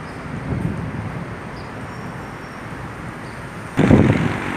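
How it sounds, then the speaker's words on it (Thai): Wind blows outdoors in central Bangkok on a cool, overcast day, a steady low rumble with a gust striking the microphone near the end. "สภาพท้องฟ้าคือมีลมเย็นเย็นตอนนี้ยังอากาศเย็นนะคะ แล้วก็มีลมค่ะ"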